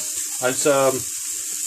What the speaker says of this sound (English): I'm frying mushrooms here, by the way. That's why there's a hissing noise.